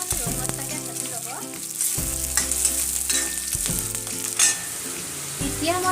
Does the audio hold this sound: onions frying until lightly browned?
yes